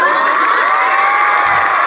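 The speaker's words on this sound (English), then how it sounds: "Alex got a studio applause sound for her second time showing up" Studio applause sound effect from a TV sitcom: a loud burst of cheering and whooping from a crowd, dense and steady throughout, with no distinct claps standing out.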